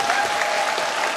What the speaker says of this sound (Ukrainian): Під ваші оплески.